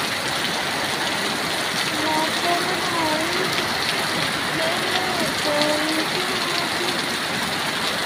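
Steady rain falls continuously in an outdoor setting, a dense even hiss with no letup, and a few faint tonal sounds rising and falling in the middle of the clip.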